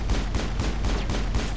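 Rapid gunfire in the video game Mass Effect, a steady run of loud, close shots repeating about four times a second with no pauses.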